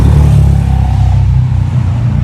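Heavy road traffic rumbling past along a road, a loud, continuous low engine drone with tire roar from cars going by close at hand, holding steady before easing slightly.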